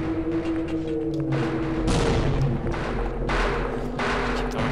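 Grenades in Half-Life go off in a rapid series of loud booms, each blast a sharp broadband burst layered over a continuous rumbling background of combat noise.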